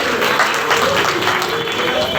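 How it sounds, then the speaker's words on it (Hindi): Audience at a religious discourse on cow devotion claps in loud, sustained applause, dense and continuous throughout with voices blended in. "जोरदार तालियां बजाइए पहले।"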